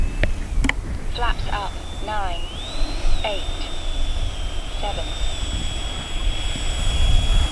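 A Freewing Yak 130 RC EDF jet flies past with a steady high-pitched ducted-fan whine that bends in pitch as it passes, over outdoor wind noise and voices talking.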